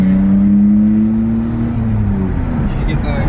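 A BMW E46 engine revs with its exhaust, a loud, steady rising drone that eases off into a rougher idle-like rumble, with no talking over it.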